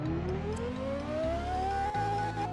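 Ferrari 812 Superfast engine in the Roblox game Driving Empire revving, a steady tone climbing gradually in pitch over a low rumble, loud and continuous with brief dips in the low drone, no talking.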